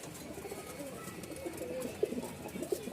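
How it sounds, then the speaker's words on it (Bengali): Pigeons coo softly in a low, murmuring rhythm against steady background noise, with a few slightly louder coos standing out. "এখানে এক জোড়া কবুতর দেখতে পাচ্ছেন"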